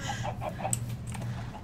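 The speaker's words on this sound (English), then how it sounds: "What are that? Chickens around here?" Chickens in the game Project Ozone 2 cluck in a run of short, soft, repeated calls, fairly close and moderately quiet, over a faint steady background hum with no speech.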